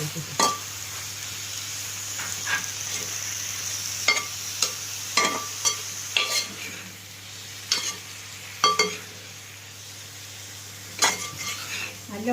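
Beef with a spoonful of coriander powder fries in a pan for Kerala-style beef mappas, a low sizzle running beneath repeated sharp clinks and scrapes of a spoon stirring against the metal.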